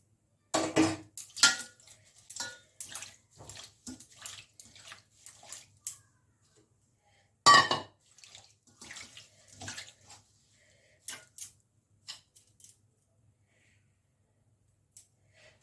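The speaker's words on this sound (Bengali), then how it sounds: "এটাকে আমি আগে ধুয়ে নিচ্ছি" Drumstick leaves being washed by hand in a bowl of water give scattered, close splashes and sloshes in short bursts, with quiet pauses between them.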